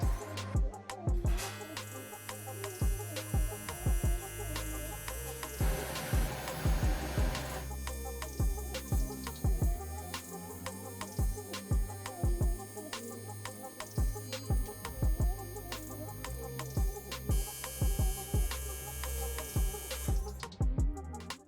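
A Matrixing AC/DC TIG welder laying a second pass on a test piece, its steady electric buzzing hum running throughout with repeated rhythmic clicks and surges, close and unbroken, no voices.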